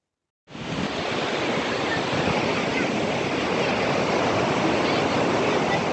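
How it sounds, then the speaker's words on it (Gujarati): The Bhagirathi river rushes beneath a bridge near Devprayag in Uttarakhand, a broad steady roar of water that starts abruptly and holds loud and even throughout, with no voices. "તો અહીંથી તમને ભગીરથી નદી બહુ નજીકથી દેખાશે। તો આ છે ભગીરથી નદી"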